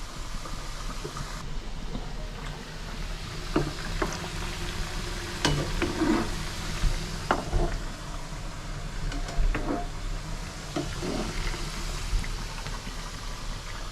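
Shankarpali fry in hot oil with a steady bubbling sizzle, punctuated by repeated soft clinks and scrapes as they are gently stirred; no speech.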